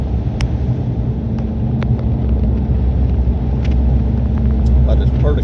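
A truck on Nitto Terra Grappler G3 tyres drives in two-wheel drive through about eight inches of snow on flat ground, giving a steady low engine and road rumble with faint wind buffeting and a voice speaking over it.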